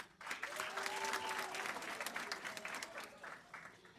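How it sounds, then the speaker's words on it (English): Applause at a commencement ceremony, a crowd clapping steadily and fairly dense, fading slightly toward the end. "A round of applause for Patrick."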